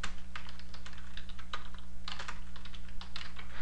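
Rapid computer keyboard typing while entering an appointment subject in Outlook 2003, a steady run of close, crisp key clicks with brief pauses and no voices.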